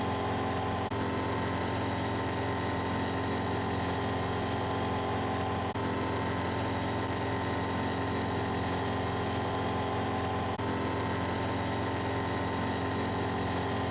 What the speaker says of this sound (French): Au niveau de la puissance moteur, je vais en mettre un peu plus